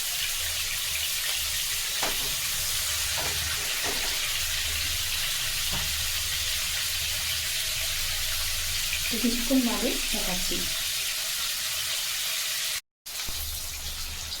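Large pieces of fish fry in a pan for a light fish curry, giving a loud, continuous, close-up sizzle and hiss throughout. A few soft knocks sound in the background, and a voice speaks briefly over the frying.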